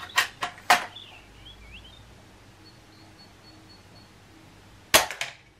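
Sharp cap-gun-like shots fired at Easter eggs outdoors: a quick burst of three cracks at the start, then a long gap and two more close snaps near the end, loud and near with no talk.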